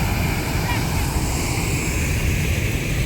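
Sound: rushing water at a scenic spot

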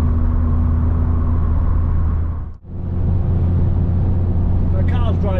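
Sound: 30-year-old Vauxhall Cavalier CD driving on the motorway

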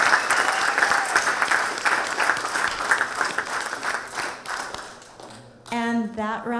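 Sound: audience applause at a college competition

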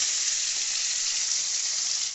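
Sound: fish frying in oil

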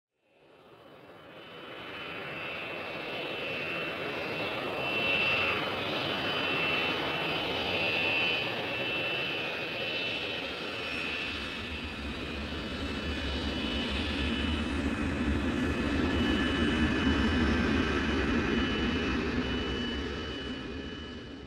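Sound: airplane engine flying, from a toddler learning video

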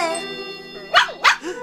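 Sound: dog barking

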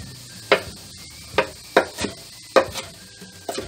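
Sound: chopping spinach

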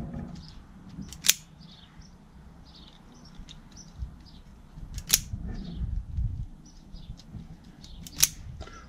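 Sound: cutting electrical wires for a trailer socket

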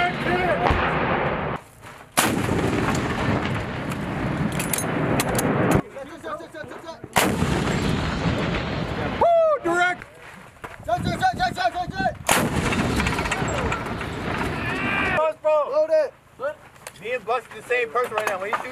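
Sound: howitzer artillery rounds firing and impacting

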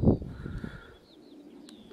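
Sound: racing pigeons arriving at the loft

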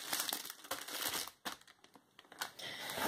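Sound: plastic wrapping being crinkled during unboxing

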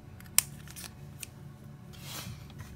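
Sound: scissors trimming a paper piece for crafting

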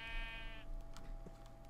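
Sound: sheep bleating in the video game Minecraft

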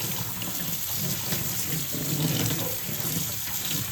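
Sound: washing drumstick flowers under running tap water

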